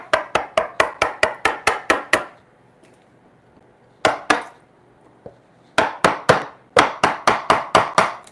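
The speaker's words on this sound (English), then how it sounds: "Kind of test the sharpness of your chisel by seeing whether it cuts through a knot." Sharp chisel chopping through a knot in timber during timber-frame joinery for a bunk bed, a rapid series of loud, close percussive strikes in bursts, pausing briefly before more evenly spaced blows resume.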